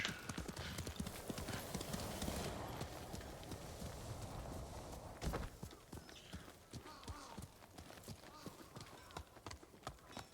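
Hooves of a galloping horse in the video game Ghost of Tsushima pound out a fast, continuous clip-clop rhythm, fairly loud and close, with a brief burst of rushing noise midway and a snort near the start.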